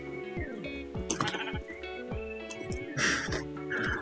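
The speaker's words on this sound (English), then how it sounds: "Are you one of these sheep?" Sheep bleat in the Minecraft video game, several short wavering bleats in quick succession, close and clear, some overlapping, with faint game noise between them.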